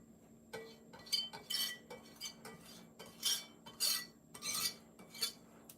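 A utensil scrapes and clinks against a bowl in repeated bursts, stirring ingredients up close in a quiet room.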